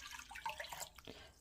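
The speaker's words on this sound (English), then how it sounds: "So I'm putting 2 cup of water in this" Water poured into a pot while preparing a mango trifle dessert, a short splashing, trickling stream that runs steadily for about a second and a half, fairly faint, with no talking over it.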